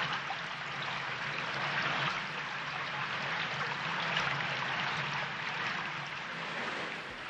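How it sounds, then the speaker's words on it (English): Waterfall roaring down into a cave pothole, a steady dense rush of falling water and spray that fills the whole clip without pause. "because of the noise of the water and the effect of the spray"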